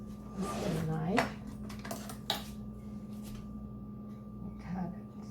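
Cutlery clinks and rattles in a kitchen as a knife is fetched, several short metallic clatters over a faint steady hum, with a voice speaking briefly at the start.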